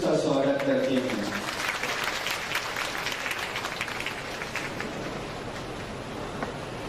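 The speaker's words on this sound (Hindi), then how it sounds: "हम लोग तालियों की गड़गड़ाहट से इसका स्वागत करते हैं" Audience applause in a church gathering welcomes Catholic priest Father Ajin Josh, a dense steady patter of clapping that starts strong and slowly thins, with a brief voice speaking at the very start.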